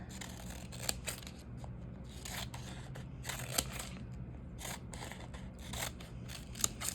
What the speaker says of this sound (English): So I'm gonna cut some strips.